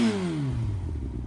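A 1000cc four-cylinder motorcycle engine revving, pitch falling steadily as the revs drop off, loud and close with an exhaust rumble underneath and no talking.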